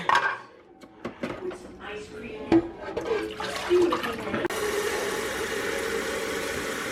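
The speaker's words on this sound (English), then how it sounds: "We haven't used our coffee maker in a while, so I should probably add new water." Plastic clicks and clatters, then water pours into a coffee maker in a steady, close rushing stream for the last few seconds.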